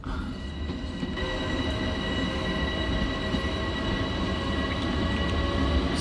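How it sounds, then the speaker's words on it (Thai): A long M7 electric passenger train runs steadily in Train Sim World 2020 near Jamaica station, a continuous loud rumble of wheels on rails with faint squealing and hum, no talking. "เป็นขบวนรถโดยสาร รถไฟฟ้านะ M7 นะที่ยาวมากเลย"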